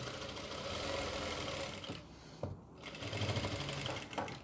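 A sewing machine stitches a designer gown in a rapid, steady whir that breaks off briefly, then starts again with uneven runs.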